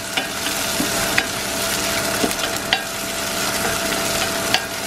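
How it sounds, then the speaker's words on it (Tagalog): Garlic sizzles steadily in a hot pan on a home stove, a loud continuous fry broken by occasional sharp scrapes and clicks as it is stirred, close up with no one speaking. "Brown na yung yung garlic."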